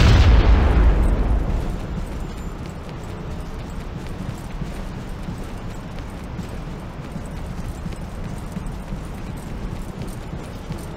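A grenade blast in the online shooter Shadowgun War Games: one loud, deep boom at the start that rolls off into a long, low rumble fading over several seconds, with no voices over it.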